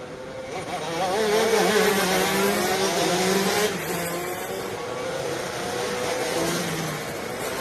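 Shrill, buzzing engines of PSL Karting ROK Pro Shifter karts racing on track during a ROK Cup USA Florida Winter Tour main event, rising and falling in pitch as they accelerate and shift, close and loud with no talk.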